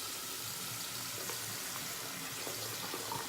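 Tap water runs steadily from a faucet onto a shaving brush in a bathroom, a continuous faint hiss and splash with no speech.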